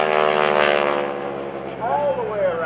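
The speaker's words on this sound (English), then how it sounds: "he will hesitate on the 45-degree descending line, roll the airplane to the right side" A propeller aerobatic airplane performing at an air show gives a steady droning engine roar, with a commentator talking over the sound.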